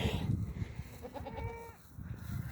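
Goats bleat in a farm pen, several wavering calls overlapping close by, with a short stretch of quieter shuffling in between.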